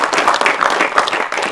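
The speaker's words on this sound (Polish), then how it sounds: "Wielkie brawa dla niego!" An audience claps at an anniversary ceremony, a short, dense burst of applause that fills the space evenly and stays loud from start to finish.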